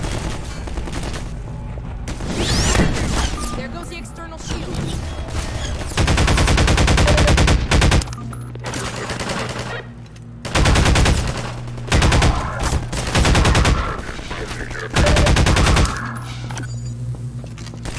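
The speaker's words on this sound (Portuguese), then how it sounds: "Estão me atirando." Loud, close automatic weapon fire in Half-Life 2, long rattling bursts broken by short pauses and some heavier thumps, with game noise between volleys.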